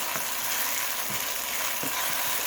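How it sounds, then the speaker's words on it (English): Onions sautéing in a hot pan give a steady close sizzle throughout, with a few soft knocks of stirring underneath and no talking. "So we're going to saute these for a few minutes longer."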